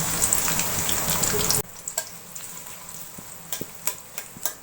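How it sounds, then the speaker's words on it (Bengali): Onions hit hot oil with a loud hiss that quickly drops to a softer sizzle dotted with scattered pops and crackles. "একটি কড়াইতে তেল দিয়ে নিয়েছি তারপর দিয়ে দিচ্ছি এখানে পেঁয়াজ"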